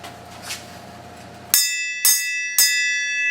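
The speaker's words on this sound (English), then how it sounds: "Why don't you ring the bell before I come up with something else?" A bell struck three times in slow succession, each strike ringing out bright and close with a long shimmering sustain that overlaps the next, following a quiet stretch of faint background hum.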